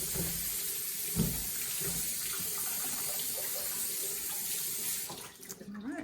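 Running tap water splashes steadily into a sink while something is rinsed during homemade laundry detergent making, a continuous close hiss that tapers off at the end.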